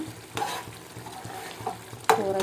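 Spoon stirring a dried-egg curry simmering in water in a pan, several scraping strokes against the metal over a soft bubbling sizzle, with a louder clattering stir near the end; no talking.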